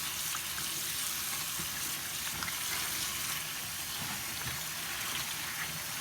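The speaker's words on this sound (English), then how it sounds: "I'm rinsing it one more time because the water is pretty clear" Steady hissing of cold running water splashing into a sink while a silk scarf is rinsed, continuous and even with faint clinks, no voices.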